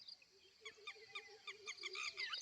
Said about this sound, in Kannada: ಈ ಪಕ್ಷಿಗಳು ನೋಡಿ ಹೆಂಗೆ ಕಿರಿಸ್ತವೆ ನೋಡ್ಕೊಳ್ಳಿ